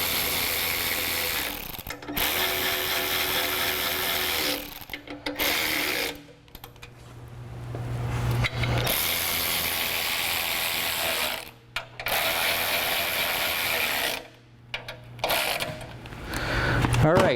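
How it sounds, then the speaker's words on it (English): Bolts on the auxiliary brackets of a Go Rhino BRJ40 front bumper being tightened on a Jeep Wrangler JK, with a steady mechanical whirring and ratcheting that runs in long bursts broken by short pauses, close and fairly loud. "Tighten up the bolts for the auxiliary brackets."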